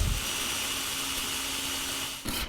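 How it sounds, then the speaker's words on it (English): A drill boring a pilot hole runs continuously with a rough, buzzing whir, close by, then cuts off briefly before a short burst near the end. "Then I'm going to drill a pilot hole."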